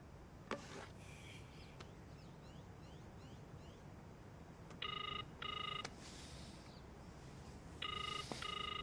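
A telephone rings after a call is placed, giving two faint double-burst rings from a handset heard distantly against a quiet hiss, with soft clicks before them.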